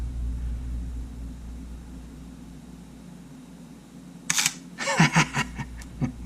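Shutter assembly of a Sony A7 mirrorless camera firing with no lens attached: a close, sharp mechanical snap after a stretch of quiet hum, followed by a rapid cluster of rattling clicks that trail off.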